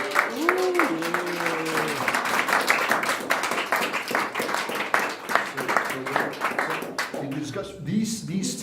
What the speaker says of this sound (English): Before we give you a round of applause